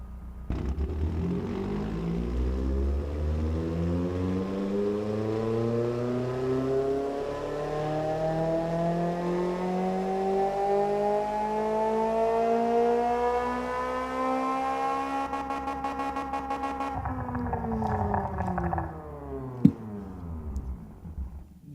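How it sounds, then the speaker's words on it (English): A pushrod engine on a dyno in an engine shop revs steadily upward toward a 7,200 RPM limit, its loud harmonic whine climbing for about fifteen seconds before easing off, with a sharp click near the end. "when this is running so you guys can hear the engine sound"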